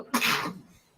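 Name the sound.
sneeze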